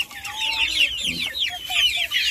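Rhode Island chickens cluck close by in a run, with a busy stream of overlapping clucks and squawks from more than one bird.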